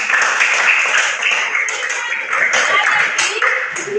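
A classroom claps for a student returning to their seat, a dense, continuous patter of many hands filling the room at close range.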